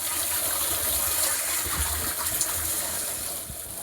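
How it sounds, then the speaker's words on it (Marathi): Water flows in through a blue pipe on a farm irrigation setup, making a continuous, moderately loud rushing gush with a low rumble beneath. "याच्याच सहाय्याने पाणी येणार आहे या निळ्या पाईपाच्या सहाय्याने बघू शकता आपण"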